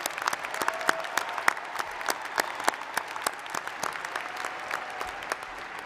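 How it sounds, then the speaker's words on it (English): Sustained applause for graduates at the USF Spring 2021 evening commencement ceremony, a dense and steady crowd clapping that holds for several seconds without letting up. "let's give another hearty round of applause to all of our graduates tonight"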